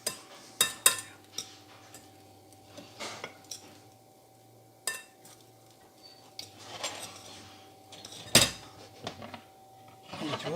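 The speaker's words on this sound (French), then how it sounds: "je continue à mélanger" A utensil stirs and scrapes protein crêpe batter in a heating pan, with intermittent clinks and rubbing strokes and a steady low hum underneath; quiet and close.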